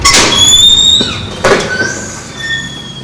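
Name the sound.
school entrance door opening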